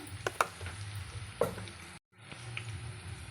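Onions dropped into a hot pan for rajma curry sizzle steadily, with a few clattering knocks of a spoon or pan early on and a brief dropout midway before the frying hiss resumes.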